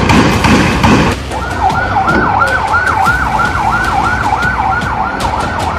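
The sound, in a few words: ambulance sirens arriving at a hospital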